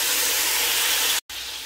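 A splash of water hits a hot pan of browned onion and garlic-ginger paste, setting off a loud, steady sizzling hiss that cuts out abruptly for a moment before resuming.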